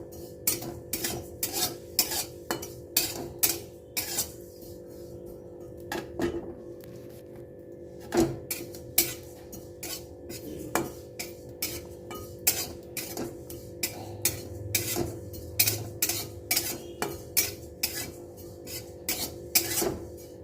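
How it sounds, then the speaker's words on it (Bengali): Dry sesame seeds rattle and scrape as a spatula repeatedly stirs them in a pan during vegetarian cooking, giving a steady run of close, sharp scratchy strokes over a faint low hum. "প্রথমে আমি তিলটাকে একটু একটু ভেজে নেব।"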